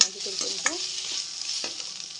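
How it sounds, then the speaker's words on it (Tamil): Onions and spices for a crab rasam frying and being stirred in a pan, giving a steady bright sizzle with a few soft scrapes and clinks of the spoon, close and even throughout. "வெங்காயம் போட்டு கொஞ்சம் நல்லா வதக்கிக்கலாம்"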